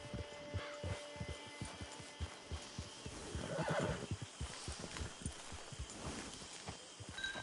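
A horse in a video game whinnies while its hooves clip-clop in a steady walking rhythm, close and clear over a soft ambient background.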